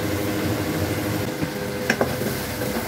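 Spice paste of chili and turmeric powder with a splash of water sizzling in a pan for a puti fish curry, a steady soft hiss of frying with a couple of faint clinks of stirring.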